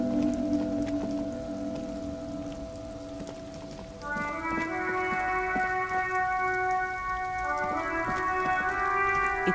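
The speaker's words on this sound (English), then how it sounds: "It's raining again." Soft rain patters steadily in the video game Disco Elysium, a faint hiss under a tonal ambient music bed that thickens halfway through.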